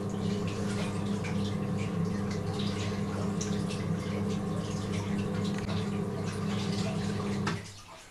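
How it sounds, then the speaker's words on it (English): Rhizotonic additive being dosed by a dosing pump into a nutrient reservoir, with micro pumps stirring inside the additive containers: a steady, continuous liquid trickle and motor hum that stops abruptly near the end. "small micro pumps inside the additive containers, in this case the Risotonic container, which is stirring the additives around as it's being dosed through the dosing pump to the reservoir"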